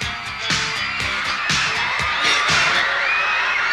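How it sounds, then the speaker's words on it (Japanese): A crowd of schoolgirls at a film shoot cheers and shrieks continuously, a bright, dense mass of high voices with sharp bursts of louder whoops, fairly close and sustained throughout. "しかしすごい歓声。"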